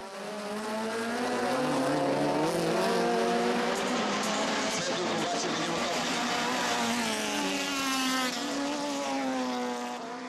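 Race cars lapping the Veliko Tarnovo circuit during a 2012 Racing Extreme event, a continuous loud engine roar whose pitch rises and falls as cars pass, with several overlapping engine notes.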